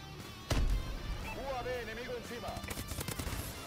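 Gunfire in the futuristic shooter Call of Duty: Advanced Warfare opens with a loud burst, then lighter shots continue beneath someone talking excitedly.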